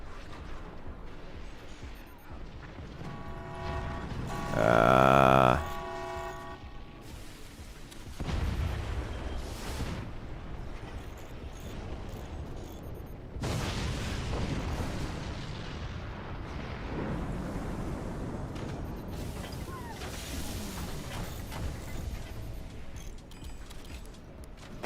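Heavy cannons firing in the strategy game Forts, with a series of deep booming blasts and rumbling impacts spread across the stretch, broken by a loud tonal alert burst near the start.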